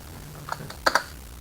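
A few crisp, quiet clicks from the Alt key on a computer keyboard as an Excel shape-sizing shortcut is demonstrated, with two quick presses close together after a lighter tap.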